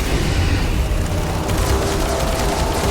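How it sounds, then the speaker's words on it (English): Loud, dense booming blast from a grenade going off in the video game Starfield, a continuous roar of explosion noise filling the scene without a clear gap. "I probably should not be throwing grenades."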